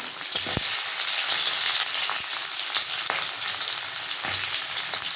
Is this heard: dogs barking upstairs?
no